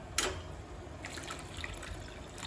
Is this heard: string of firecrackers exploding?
no